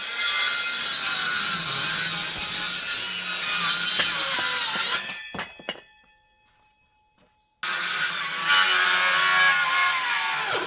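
Saw cutting bad spots out of Douglas fir boards for a hundred-year-old garden bench, loud continuous rasping that stops for a couple of seconds of near silence, then resumes.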